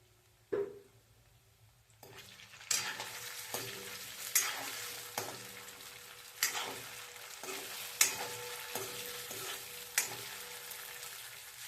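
Coriander mutkule frying in hot oil until brown, a steady sizzle broken by regular scraping stirs roughly every second, close by and quiet, with no one speaking.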